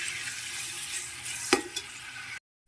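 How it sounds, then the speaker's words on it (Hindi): Chopped tomatoes with green chillies cook in a pan for matar pulao, giving a steady sizzle and frying hiss. A louder stirring scrape comes near the middle, and then the sound cuts off sharply. "टमाटरों को सॉफ्ट होने तक अच्छे से कुक करेंगे।"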